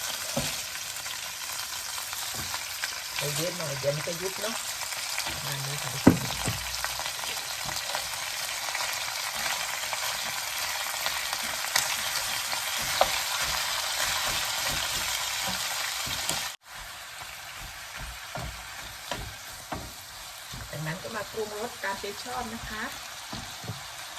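Home-grown cabbage and pork stir-frying in a pan with oyster sauce make a steady, close hiss that runs throughout, with a brief drop in level partway through and faint stirring knocks underneath.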